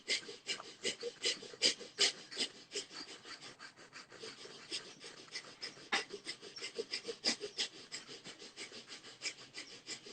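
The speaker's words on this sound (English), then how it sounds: "just start breathing in through your nose and out through your nose" Breath of fire exercise, rapid forceful breathing in and out through the nose in a fast, even rhythm of sharp close puffs continuing throughout with no talking.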